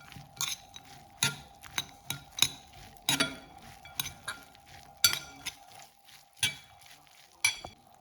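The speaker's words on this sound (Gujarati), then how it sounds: "હું એક મોટી ચમચી બીજી ચટણી નાખું છું અને એને મિક્સ કરી લઈશું" A metal spoon mixes Surat-style collegian bhel with chutney in a bowl, giving a dozen or so sharp, irregular clinks and scrapes against a faint steady background hum.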